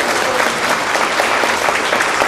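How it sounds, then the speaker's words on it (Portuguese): Dense, lively applause from a hotel event audience welcoming an orchestra performer, a brief burst of steady clapping with no talk over it. "quem não conhece, uma salva de palmas"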